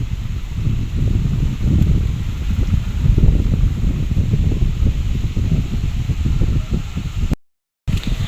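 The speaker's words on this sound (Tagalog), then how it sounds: "Ako po nagiginhawahan dun sa hangin at malamig po yung simoy niya." A cool breeze blows outdoors near a farm plot, a steady, close rush of wind buffeting the microphone with rustling, continuing for several seconds before a brief dropout.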